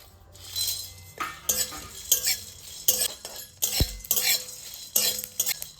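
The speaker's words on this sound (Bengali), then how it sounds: "এইগুলো শুকনো খোলায় ভেজে নেব" Whole spices (shahi cumin, black pepper, chilli and cardamom) are dry-roasted in a pan, with repeated scraping and stirring strokes and light metallic clinks in an uneven rhythm, close and moderately loud.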